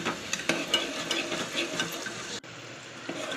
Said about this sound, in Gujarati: જ્યાં સુધી ડુંગળી સરખી રીતે લાલ ના પડે લાલાશ જેવી ના પડે ત્યાં સુધી શેકી લેવાની.